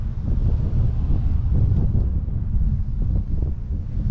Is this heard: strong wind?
yes